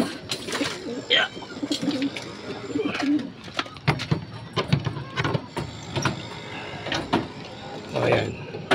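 Pigeons cooing overhead in a bird-filled spot, soft repeated coos under scattered chirps and clatter, with people talking nearby throughout.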